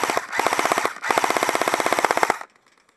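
Sustained automatic gunfire during a game on a battlefield field: two long, loud, rapid bursts of shots, the second lasting over a second, then cutting off to near silence.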